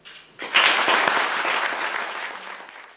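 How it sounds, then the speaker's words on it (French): Audience applause at a ceremony in Namur honouring two centuries of heritage protection, breaking out suddenly after a quiet lead-in, then sustained dense clapping that slowly tapers off. "vos applaudissements"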